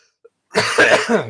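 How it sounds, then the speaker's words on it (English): A man coughs from a sore throat: after a tiny click, a close, loud burst of two or three rough, hacking coughs runs together with some throat clearing. "I've got a bit of a sore throat, so I might be coughing a lot today."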